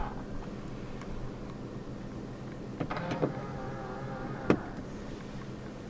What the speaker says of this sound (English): Hit both the L and the R buttons at once to fold the mirrors in.